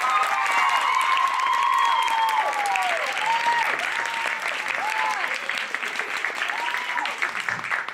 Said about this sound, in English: we will applaud as Maureen makes her way to us.